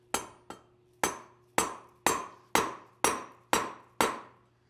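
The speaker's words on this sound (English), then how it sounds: "Take your dead blow or hammer, one of the two, and then just off you go." Nine solid, evenly spaced dead blow hammer blows on metal, driving a wheel bearing into a wheel, each with a short ringing decay, struck at a steady rhythm with no talking.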